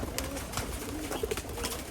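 Soft pigeon coos sound faintly over steady background noise, with a couple of brief low calls standing out near the end.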